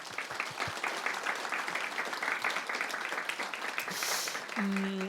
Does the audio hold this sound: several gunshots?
no